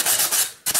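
Sanding a piece of burnt, heat-hardened polystyrene foam on a diorama base, giving close, loud abrasive rubbing strokes in quick succession with a short pause before two more strokes.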